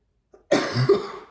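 A single short, rough throat-clearing cough right up close, preceded by a faint brief vocal sound.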